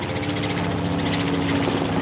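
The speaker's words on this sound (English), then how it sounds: "And there goes the helicopter." Helicopter passing over a farm near a local airport, a steady, loud whir of rotor and engine with a constant droning hum throughout.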